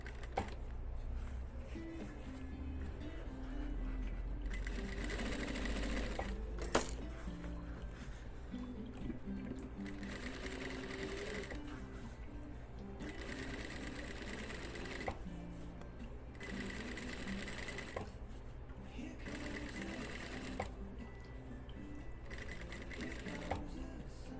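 Sewing machine stitching a men's dress shirt collar, running in several bursts of steady rapid mechanical whirring separated by short pauses, close and fairly quiet, with no talk.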